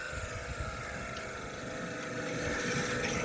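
A compact high-pressure jetting machine clearing sediment from a 150 mm rainwater drain pipe gives a steady, close mechanical roar with a rough, pulsing low rumble that swells slightly toward the end.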